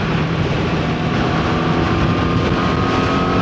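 Engine of a 2025 Honda CBR1000RR SP Fireblade sports motorcycle running: a loud, steady, dense roar with wind buffeting, held continuously throughout without voices.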